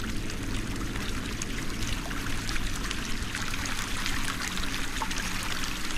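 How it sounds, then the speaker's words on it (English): In a VR video game, water flows in a steady, continuous, soft rush and trickle that runs unbroken and fairly quiet, with no voices. "Look at that water effect."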